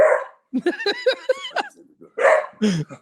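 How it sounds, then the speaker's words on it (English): A dog barks and yips nearby in a quick, uneven series, with a short pause before two more barks; the tone is bright and close, and nobody is talking over it. "Oh, I hear a dog."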